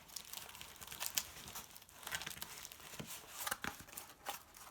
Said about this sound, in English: throw a piece of tape down, maybe tape 2 edges